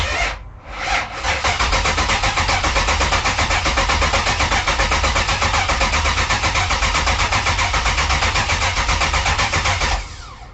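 A Chevy Camaro's LT-1 V8, long unused and on a low battery, cranks briefly, catches and roars into a loud, steady rumbling idle that runs for several seconds before cutting off near the end.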